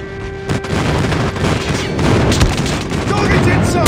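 Airstrike explosions in Call of Duty Mobile rumble in a dense, continuous barrage of booms and crackling blasts, loud and close, with a few sharper bursts layered through the roar.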